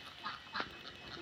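A few short, nasal duck quacks in quick succession, moderately close, with a quiet background between calls.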